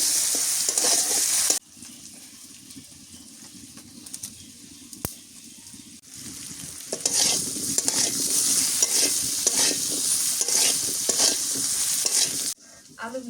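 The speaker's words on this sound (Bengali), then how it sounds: "আলুগুলা ভাজা হয়ে গেছে" Potatoes fry in oil in a pan in a village kitchen on a rainy day, a loud steady sizzle with stirring scrapes, briefly quieter midway, and birds cooing faintly in the background.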